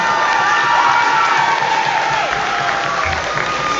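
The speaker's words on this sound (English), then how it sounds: "So give her a round of applause." An audience at a junior musical performance claps and cheers loudly for a young performer, with whoops and shouts over dense, steady applause.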